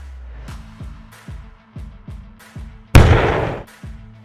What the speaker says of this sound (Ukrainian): І тут роздаються постріли.